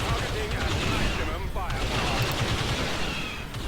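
Units firing at a turret in the Empire at War strategy game, dense overlapping blaster and gunfire bursts forming a continuous rattling barrage, with a voice speaking faintly underneath.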